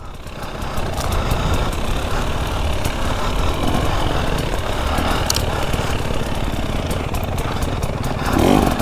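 A KTM EXC 300 two-stroke dirt bike riding down a steep mountain slope, its engine a continuous loud rough drone close to the rider, with faint scattered knocks over the top.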